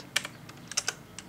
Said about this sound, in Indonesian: Masuk lagi ke CMD, baru kita ketikkan